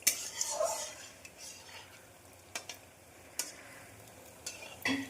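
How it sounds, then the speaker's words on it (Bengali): Spongy sweets fry in a pan with a low, steady sizzle, broken by occasional clinks and scrapes of a utensil against the pan. No voices are heard. "আমি সবকটা এরকমভাবেই আর কি ভেজে নেবো সবকটা।"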